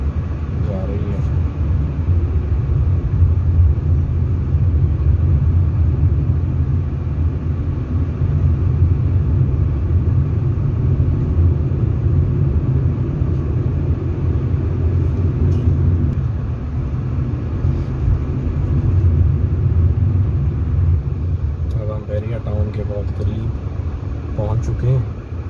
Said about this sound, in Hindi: यहाँ पर भी ट्रैफिक स्लो स्लो जा रही है